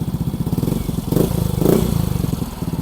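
A Yamaha Mio i 125 scooter with an aftermarket Hero muffler idles with a deep, throaty exhaust burble, pulsing steadily up close, with two brief swells as the throttle is blipped.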